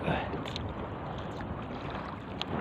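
Strong gusty wind buffets the microphone in a steady rushing roar on a fishing trip at sea, with water and the noise of a small fishing boat blended in.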